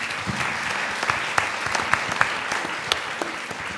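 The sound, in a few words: audience applause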